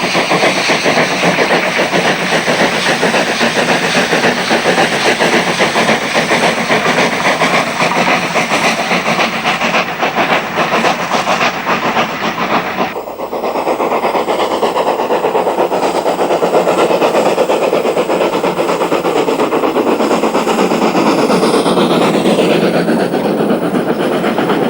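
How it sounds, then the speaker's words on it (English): Train of 1950s carriages hauled by Class 47 locomotive 47279 on the Kent and East Sussex Railway, a loud steady rumble of diesel engine and rolling wheels, shifting in tone midway as it passes close by. "Class Loco 47279 also worked on the line during 1996 and is seen here with a train of 1950s carriages."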